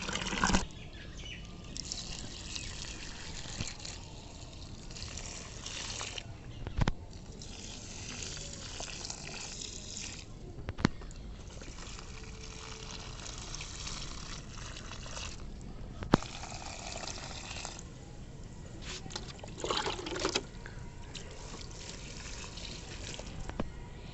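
Plants watered on a rooftop in the afternoon, a steady hiss and patter of water pouring and trickling across the whole stretch, with occasional louder splashes and no speech.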